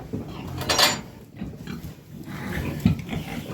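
Young pigs in a pen on a Ukrainian homestead grunt and snuffle nearby in short uneven bursts, with some clanking of a feeder or metal pan mixed in.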